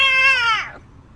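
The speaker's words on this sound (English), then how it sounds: "which is the cat one. They call it Cute Angry Alien" A short cat meow sound effect named Cute Angry Alien, used in Facebook Horizon: a single clear, high, tonal meow that slides downward and fades out in under a second, heard alone.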